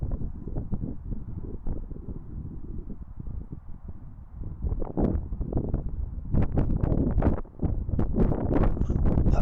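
Wind gusting across open water during a fishing match, a dense low buffeting roar against the microphone that rises and thickens in the later seconds, no voices.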